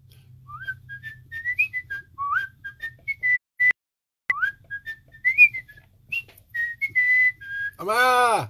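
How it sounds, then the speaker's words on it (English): A person whistles a bright, wandering tune in short phrases with brief pauses, close and clear against a quiet background, ending in a burst of other sound. "You know how many times I had to whistle that to get it to work again."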